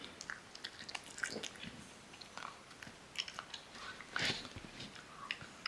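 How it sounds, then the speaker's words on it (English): A dog chews a Greenies dental treat, giving faint, irregular bites, crunches and soft squishy mouth sounds up close at low volume, with no talking. "the Greenies actually take a bit of effort to actually chew through."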